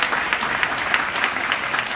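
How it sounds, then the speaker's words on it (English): An audience at a political speech at the Fillmore in Silver Spring applauds: steady, dense clapping from a crowd, loud and continuous for the whole stretch. "please, big round of applause."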